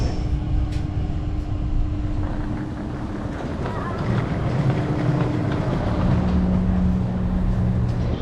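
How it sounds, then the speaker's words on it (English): Steady rumbling of a moving train on the first leg of a trip from Hamburg toward the airport, a broad continuous roar with faint tonal hums and muffled rattles, voices murmuring faintly in the carriage. "our first mode of transportation today is the train"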